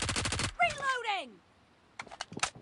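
Automatic gunfire in the BGMI mobile battle royale game: a rapid burst of close shots, a brief voice-like sweep, a short lull, then another quick burst.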